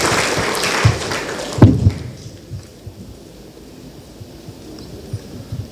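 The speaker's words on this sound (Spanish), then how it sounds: "Lo recibimos entonces con un aplauso al economista Carlos Velarde Sacio." Brief burst of audience applause at a forum on the importance of water, loud for under two seconds and then quickly dying away into a quiet room.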